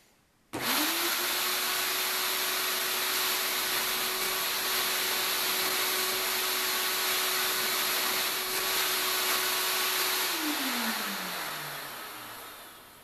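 A ShopVac switches on abruptly and pulls air through a split-ring ramp cyclone separator hose into a bucket, a loud steady whine with a rushing roar that holds for about ten seconds, then winds down in pitch as the motor slows.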